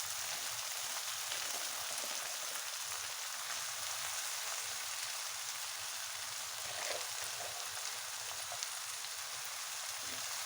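Onions frying in a pan as chopped herbs are tossed in for a fish buglama, a faint, even crackling sizzle that runs steadily throughout with no talking.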